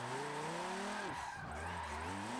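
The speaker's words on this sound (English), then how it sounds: "No matter what gear you're in, you're just going to instantly spin your tyres up." Dodge Viper SRT10 drift car in Forza Motorsport 7 with its tyres spinning up under power, a continuous engine whine and tyre squeal that dips briefly mid-way then climbs again, close and loud throughout.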